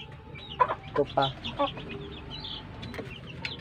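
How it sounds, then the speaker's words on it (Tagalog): A large chicken clucks nearby in a few short bursts while a person talks quietly in the background in a rural yard. "Malaking manok."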